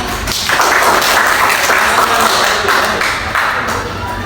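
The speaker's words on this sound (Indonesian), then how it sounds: "Oke, silakan tepuk tangannya." Classroom audience clapping after a group presentation in a teaching practice session, a steady wash of applause sustained for several seconds at fairly close range.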